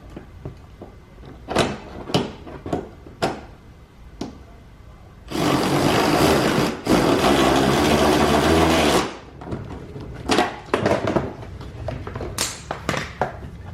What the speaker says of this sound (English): we've got our number 10 bolt started, and we'll tighten it up